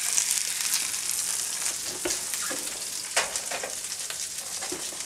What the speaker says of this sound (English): I got a little brown butter here going